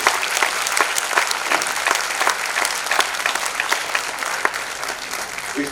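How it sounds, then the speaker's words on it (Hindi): Audience applauding a performance team at a show: dense, continuous clapping from a crowd, loud and steady throughout with no break. "एक बार जोरदार तालियां मैं चाहूंगा सभी पूरी टीम के लिए।"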